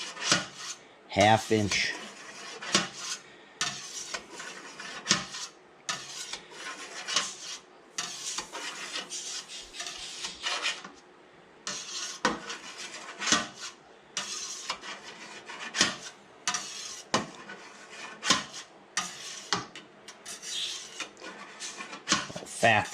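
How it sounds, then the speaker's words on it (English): A large knife cuts through a vat of homemade cheese curd, making soft scraping and rasping sounds in bursts with small clinks, close by, while someone talks throughout. "we'll apply this dangerous knife somewhere in the neighborhood of"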